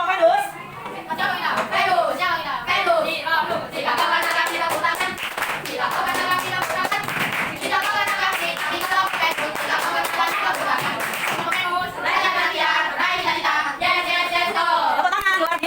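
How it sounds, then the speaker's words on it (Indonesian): Children in a classroom clap their hands together in a sustained, lively burst of applause that fills the room, with voices chattering and calling out over the clapping throughout. "Tepuk tangan luar biasa."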